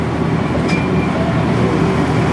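Steady rumble of the Gatorland Express ride train rolling along its track, a continuous low rolling and clattering drone heard close up without talk.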